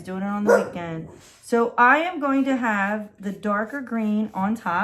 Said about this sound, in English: Dogs would stop barking.